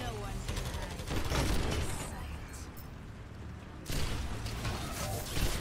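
Rapid gunfire in the Overwatch Storm Rising event, volleys of shots loud and close, swelling in a dense burst before a brief lull and then resuming, with voices talking over the fighting.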